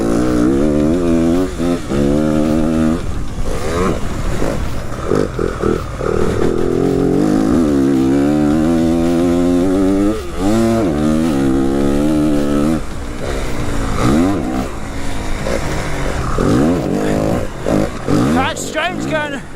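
A 2022 Yamaha WR250F dirt bike engine rises and falls steadily as the rider shifts up through its long six-speed gearbox, with the revs climbing and dropping repeatedly under continuous close-up talk.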